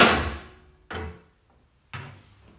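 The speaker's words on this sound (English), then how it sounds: "We'll simply grab the panel from the bottom, pull it away from the machine, and slide it down." Three sharp, hollow clunks ring out at close range, each fading quickly, as the bottom front panel of a Bosch Maxx Classixx washing machine is pulled away from the frame and slid down.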